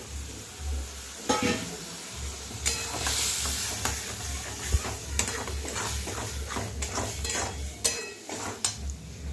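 Cumin, coriander and turmeric powders with salt fry in a pan, making a steady close sizzle broken by repeated scraping stirs and clinks of a utensil against the metal.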